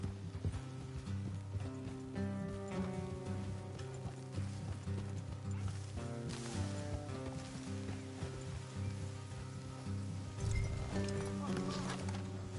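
Horse hooves clip-clop steadily while riding in the Red Dead Redemption 2 video game, set under continuous music and ambient game sound with voices talking over it.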